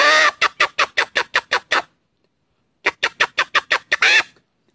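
A man imitates a rooster with his voice, in two close, loud bursts of rapid, evenly spaced pulses separated by a short silence.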